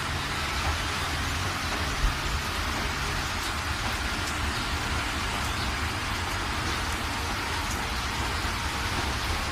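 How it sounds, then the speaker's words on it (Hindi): Heavy rain pours down steadily, a dense, constant hiss with no letup and no voices. "तभी रास्ते में फिर जोरदार बारिश शुरू हो गई।"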